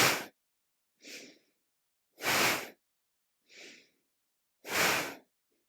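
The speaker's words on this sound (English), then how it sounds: "you can use a bit of abdominal push to get that exhale out" Forceful yogic breathing, with sharp, loud exhales pushed out from the abdomen at about two-second intervals, alternating with softer, quieter inhales, close and breathy with silence between.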